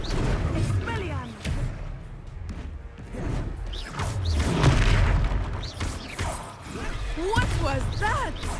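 A spell cast in the Hogwarts Legacy video game lands as a few sharp booming, whooshing bursts over a busy wash of battle effects, with a voice talking across most of it.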